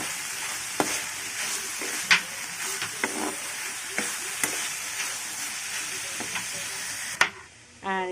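Chopped onion frying in a pan for a chicken roll filling, a steady close sizzle punctuated by sharp clacks of a spatula stirring against the pan, with no talking.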